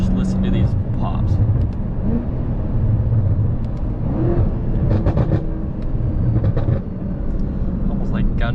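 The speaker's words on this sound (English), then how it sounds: "we're gonna get off here and just listen to these pops" A BMW F10 M5 fitted with a new exhaust droning steadily on the road, low engine rumble throughout with scattered sharp crackles and pops, heard from inside the car.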